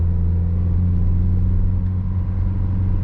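A manual transmission car accelerates with a steady, loud low engine rumble and drone heard from inside, holding evenly through the whole stretch.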